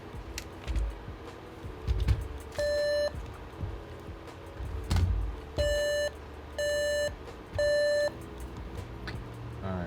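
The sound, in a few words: computer motherboard diagnostic beep code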